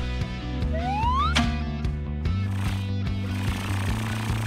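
An ambulance siren wails with a rising sweep, then holds steady, loud and continuous over a droning tonal backdrop.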